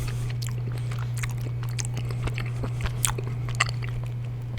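Close crunchy bites and soft chewing of chocolate-covered marshmallows, several distinct crackles of the chocolate shell over a steady low hum.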